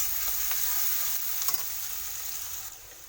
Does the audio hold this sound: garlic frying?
yes